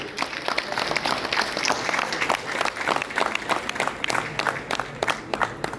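An audience applauds at a Kalinga Hospital foundation day function: a crowd claps in uneven, overlapping bursts at moderate volume, with some individual claps standing out close by.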